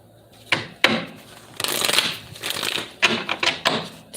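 Tarot cards riffled and shuffled in a series of brisk bursts, each a crisp papery flutter with short pauses between, close and fairly loud with no talking.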